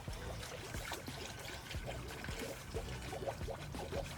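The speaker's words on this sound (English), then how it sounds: "you can just keep pouring because it's gonna keep taking" Coolant is poured into the cooling system of a TSX CL9 during a thermostat replacement and flush: a steady, close trickling stream with small gurgles and clinks, and no talking.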